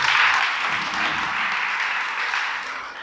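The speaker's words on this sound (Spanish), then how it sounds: "Dale un aplauso al Creador." Applause from a congregation at a prayer gathering, a dense, even wash of many hands clapping that holds steady and fades slightly at the end.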